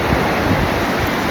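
Beach waves crashing and washing in at a shoreline with water sports nearby, a loud, continuous surf roar with wind buffeting the microphone throughout.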